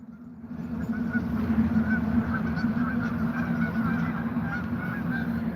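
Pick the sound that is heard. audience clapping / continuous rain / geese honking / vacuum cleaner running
geese honking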